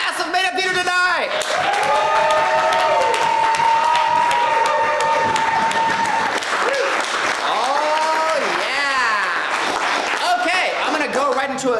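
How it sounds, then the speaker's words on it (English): A crowd at the Made Up Theater improv comedy show applauds the cast as they come on stage, with loud sustained clapping, whoops and cheering voices rising and falling throughout. "I want to hear tremendous applause again"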